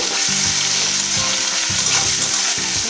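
Bitter gourd pieces fry in hot oil with turmeric, giving a loud, constant sizzle broken by repeated scraping stirs of a utensil in the pan, with no talking.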